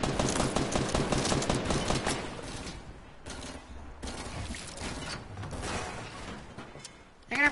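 Gunfire in the Fortnite video game, a dense rattle of rapid shots at first that thins into scattered cracks, with a player's voice talking over it.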